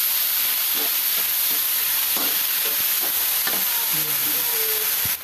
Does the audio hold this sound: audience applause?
no